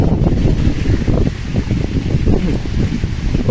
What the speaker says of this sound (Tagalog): Ay, lumakas ang ulan.